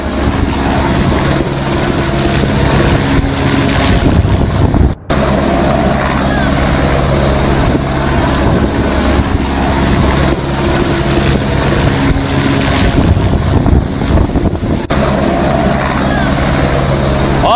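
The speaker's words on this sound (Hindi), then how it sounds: "आसमान में गर्जना करते हुए MI-17 हेलीकॉप्टर" An MI-17 helicopter roars overhead during a Republic Day parade, a loud continuous rotor thrum and engine roar that holds for the whole stretch, briefly cut once.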